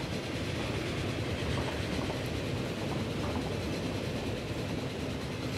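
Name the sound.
train running in the video game Transport Fever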